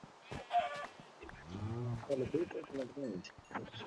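A Minecraft chicken clucks in short, bright bursts mixed with overlapping chatter and other game noises.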